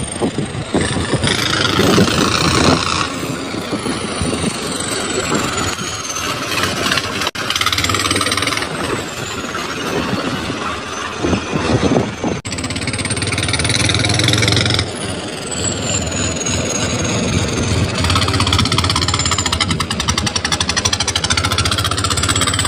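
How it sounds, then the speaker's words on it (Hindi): A Swaraj tractor engine runs steadily as it is driven out toward the fields near a highway and river, a loud, continuous diesel drone with rattles and occasional bumps, present throughout with no talking. "भाई निकाल लिया ट्रैक्टर बाहर और चलते हैं खेत के साइड"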